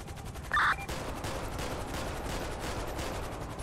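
Gunfire from a Grand Theft Auto V roleplay session, a sustained dense rattle of shots after a brief sharp burst near the start, steady and fairly loud throughout with no talking.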